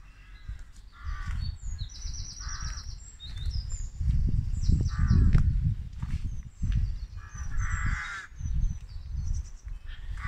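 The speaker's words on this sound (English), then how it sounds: "The old crow's going at it." Crows cawing repeatedly in a village setting in East Lindsey, with harsh calls spread through the clip alongside other birds chirping and a goose-like honk, fairly close over low background rumble.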